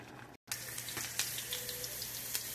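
Oil hits a pan of jute-leaf greens cooked with onion and garlic, giving a close, bright sizzle after a brief gap, with scattered pops and crackles.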